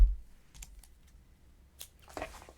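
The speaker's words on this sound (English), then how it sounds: "Cut our yarn." Scissors snipping yarn after crocheting a holiday napkin basket, a few faint close clicks followed by a short louder cut near the end, quiet and without talk.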